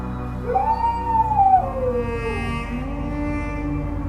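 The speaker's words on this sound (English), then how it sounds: "The dog anxiously circled their legs, howling mournfully" A single drawn-out, rising then falling video game dog howl, mournful and fairly close, fading into a low steady background hum.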